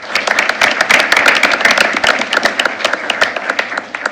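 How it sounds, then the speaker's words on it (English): Loud, close applause from a school board meeting audience, dense individual claps in a lively, uneven rhythm that thins slightly toward the end. "Another round of applause for Sam."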